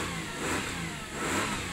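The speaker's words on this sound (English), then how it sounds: "Engine sounds lovely" A Subaru Legacy Outback 3.0 automatic with a timing-chain engine runs steadily nearby, a smooth, even hum that swells slightly partway through.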